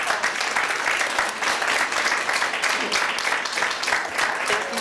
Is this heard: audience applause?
yes